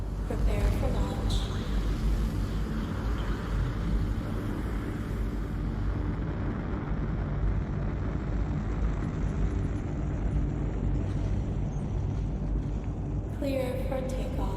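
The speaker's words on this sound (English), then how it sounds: "Takeoff initiated. Prepare for launch." A starship lifts off in a launch effect: a dense, steady low roar and rumble fills the whole stretch, with a brief brighter hiss near the start and a fresh surge near the end.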